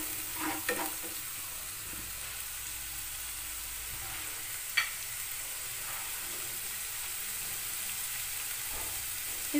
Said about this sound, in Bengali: মশলাটা ভালো করে সামান্য কষিয়ে নেব